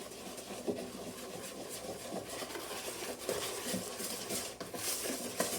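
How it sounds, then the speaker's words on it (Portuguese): A spoon stirs steaming hot milk into a thin cornmeal cake batter in a bowl, producing steady soft scraping and sloshing at close range with occasional light clinks, with no one talking. "agora eu vou colocar o leite que eu já esquentei, está bastante quente. Vou misturar."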